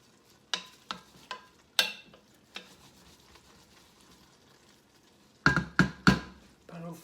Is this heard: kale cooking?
yes